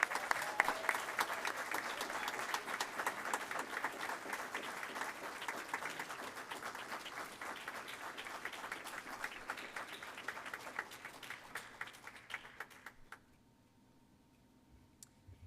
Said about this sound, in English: let's give our Eagle Scouts one more round of applause